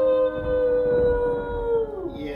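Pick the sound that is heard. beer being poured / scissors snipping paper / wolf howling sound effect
wolf howling sound effect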